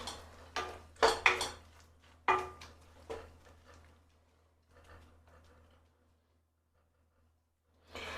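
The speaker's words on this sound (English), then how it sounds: "you can use a cooking spoon every now and then. Go inside here. Stir it." A cooking spoon knocks and scrapes against a pot while apples are stirred, giving a handful of sharp clinks and clatters close by, then fading into near silence with one last knock at the end.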